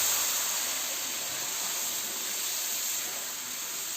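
Constant broadband hiss and sizzle of sugar syrup being added to semolina roasting for sooji halwa over low heat, loud and close, without pause, no voices.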